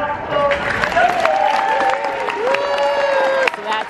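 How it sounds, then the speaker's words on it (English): Crowd applause and cheering for the judges at a FIRST LEGO League robotics competition, a steady wash of clapping filling a large hall, with voices and a high whistle or squeal running through it. "applause"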